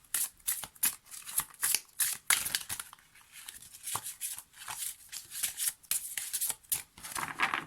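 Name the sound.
handling tarot cards to draw one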